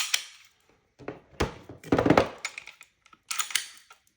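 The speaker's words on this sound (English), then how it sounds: "I'm sure you can hear the guns clanking and beating on the table" A Glock 19X pistol clanks and knocks against a tabletop in a series of irregular hard thunks and metallic rattles, close and fairly loud, separated by short pauses.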